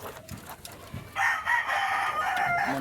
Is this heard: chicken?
yes